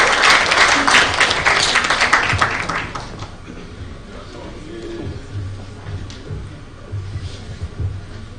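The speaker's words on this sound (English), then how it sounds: "I think she has earned an applause" Conference audience applauding after a speaker finishes, a loud burst of many hands clapping that fades out within about three seconds, followed by quieter room noise and faint talk.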